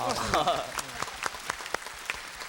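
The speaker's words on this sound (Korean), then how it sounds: "박수 한번 쳐주셔야" On a KBS television karaoke show, a voice speaks briefly before the studio audience gives a few sparse, scattered claps at a moderate level.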